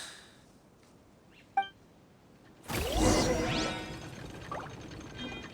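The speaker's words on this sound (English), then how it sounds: "Suddenly, the sound of a bell rings out." A single bell strike in the Genshin Impact video game, a brief bright ding followed by a louder swelling whoosh and shimmering ring that slowly fades.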